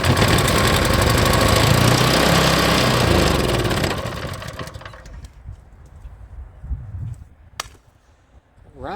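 Champion pump engine, locked up for years, running loud and close with a rough, chugging drone for about four seconds, then cutting out to quieter clanks, rattles and handling noises.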